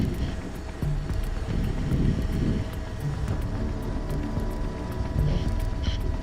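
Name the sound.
wind blowing around a helicopter during landing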